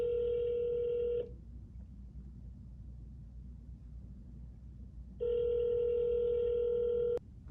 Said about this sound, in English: I'm trying to call David Lakeman.